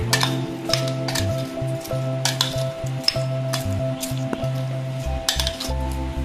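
Mango pickle being mixed in a bowl, with steady clinking and scraping of a utensil against the bowl, set over a continuous low hum and faint sizzling background.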